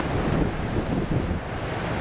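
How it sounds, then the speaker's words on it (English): Wind blusters across an exposed riverside walking path along the Percuil River in Cornwall, producing a steady, loud rushing roar of noise over the microphone with no pauses. "It's quite blowy, quite windy."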